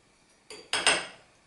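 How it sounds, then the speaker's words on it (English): Teaspoon of salt being levelled while baking a chocolate cake, a few quick metallic clinks and scrapes, close and crisp, the last one loudest before fading into quiet. "So I'm going to make a level teaspoon."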